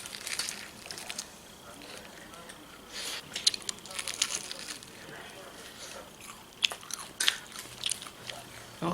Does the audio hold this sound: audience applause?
no